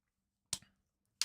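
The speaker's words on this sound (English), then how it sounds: "I don't know if I can get it with scissors, but I'm going to try." Scissors snipping through a 3D-printed plastic part: two short, crisp snaps about 0.7 seconds apart, close and fairly faint, in otherwise silent surroundings with no talking.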